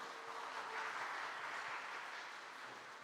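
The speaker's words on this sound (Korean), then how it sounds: "잠깐 우리 박수로 환영하겠습니다" Church congregation clapping together at a Sunday service to welcome two visiting deacons, a faint, steady wash of applause that holds evenly for about three seconds with no voices over it.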